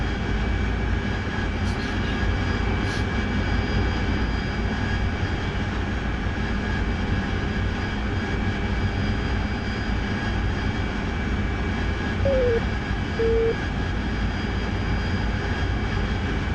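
A video game airplane drones steadily overhead, its engine a continuous loud roar sustained throughout, with a few brief faint electronic blips and no speech.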